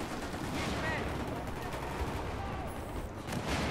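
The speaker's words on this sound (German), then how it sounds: "Die schießen ja auf mich." Enemy gunfire in a video game shooter with shotguns, a dense continuous barrage of shots close to the player, steady and loud throughout with no clear gaps.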